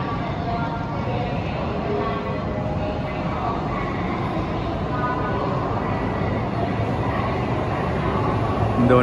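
A high-speed bullet train in China rumbles steadily past close by, a continuous low roar with faint rhythmic rattling building slightly toward the end.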